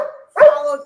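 A single sharp dog bark sounds indoors at close range, preceded by a softer whining whimper.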